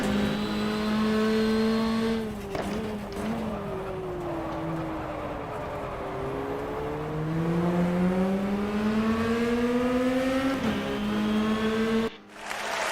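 A race car engine in GTR 2 at the Donington GP circuit, droning loudly and steadily, dipping and rising in pitch as it brakes for hairpins and accelerates out, with a brief cut near the end.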